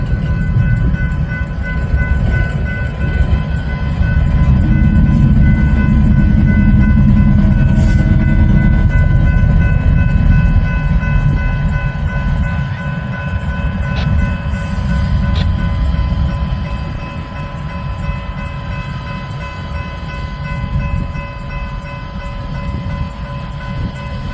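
A Union Pacific eastbound double-stack freight train rolls past at a Kansas grade crossing, a loud, steady low rumble of wagons and wheels holding for the whole stretch, easing off slightly toward the end.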